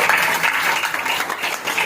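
Dense, steady applause from a church congregation at a sermon, many hands clapping at once in a continuous wash of sound with no clear gaps.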